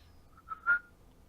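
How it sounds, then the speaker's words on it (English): A person whistles close into a microphone: a short whistled note, then a louder, longer one, brief and alone during a tabletop game session. "Sorry about whistling into the microphone."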